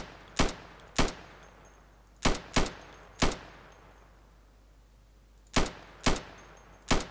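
Rifle in burst mode in Insurgency training, sharp loud shots in tight pairs and singles, about nine cracks with short gaps and quiet between.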